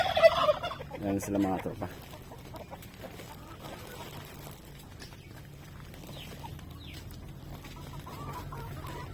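Turkeys gobble loudly near the start in a backyard poultry pen, with chickens clucking faintly afterward and someone speaking briefly.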